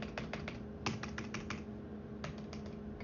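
Apple Magic Keyboard keys are tapped in a quiet, close-up run of soft, crisp clicks, irregular in rhythm with one slightly heavier keystroke, alone over a faint hum.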